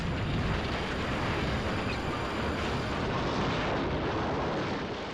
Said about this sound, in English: As the tower crashed to the ground, bricks and dust exploded everywhere.